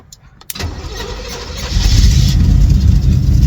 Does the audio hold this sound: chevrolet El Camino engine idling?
yes